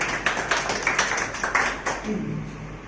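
A small workshop audience clapping, heard as a run of distinct, fairly regular claps that are loud and close, with a voice briefly audible near the end.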